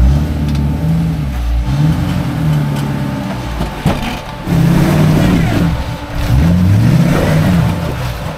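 An off-road rig's engine revs in rising and falling surges as it crawls over rough East Tennessee trail terrain, loud and close, with brief quiet dips between pulls and faint voices in the background.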